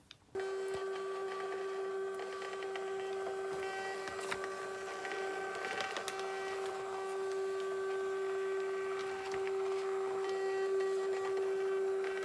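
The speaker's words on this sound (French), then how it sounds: "Donc j'avoue que les bordereaux, là, sur cette petite imprimante, ça y va." A small label printer runs through a batch of about 40 shipping labels for parcels, giving a steady, continuous mechanical whine with a strong sustained tone and occasional clicks, close and loud for the whole stretch.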